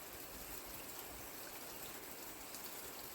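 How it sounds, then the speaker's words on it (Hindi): A small waterfall in a forest near Amarkantak pours in a steady, soft, continuous rush of falling water, with no talking. "तो यहाँ पे एक पानी का सोर्स है, एक झरना है एक्चुअल में, तो ये गिरता ही रहता है।"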